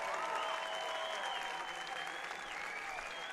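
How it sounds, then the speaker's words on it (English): A crowd applauding Madison High School's Division I champions at a high school championship, with dense continuous clapping and some cheering, steady and moderately distant. "please join in applauding our 2026 Division I champions, the Warhawks of Madison High School"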